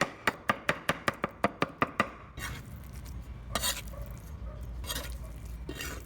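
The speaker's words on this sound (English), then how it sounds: "Then, mince it finely." A knife mincing thinly sliced pork on a cutting board: about ten quick, sharp, evenly spaced chops close up, followed by quieter scraping and a few irregular knocks as the meat is gathered.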